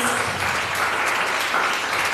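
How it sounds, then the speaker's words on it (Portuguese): A church congregation claps together in praise, a dense, steady wash of applause lasting a couple of seconds without pause. "Vamos aplaudir ao Senhor."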